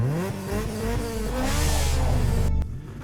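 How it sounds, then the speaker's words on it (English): In the Midnight Club racing game, a car engine revs loudly and climbs in pitch through repeated rising sweeps, then cuts off sharply near the end, with no one talking. "When you change car, for example, you can still hear the engine sounds."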